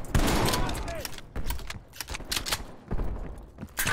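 Rapid bursts of gunfire in the Call of Duty Cold War campaign, sharp cracks and short automatic volleys clustered across the moment, fairly loud and close with game ambience between shots.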